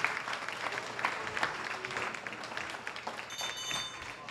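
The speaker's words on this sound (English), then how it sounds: "Give a round of applause for Barrett." Applause from a live podcast show audience at an Ironman Texas event, a dense steady patter of clapping with a few whoops that fades slightly toward the end.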